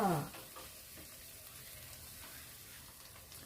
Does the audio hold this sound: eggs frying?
yes